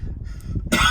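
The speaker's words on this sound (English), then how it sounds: "it's making me cough a bit" A single short cough inside a Kia Optima rental car, close and loud, preceded by quieter throat sounds and breathy murmuring.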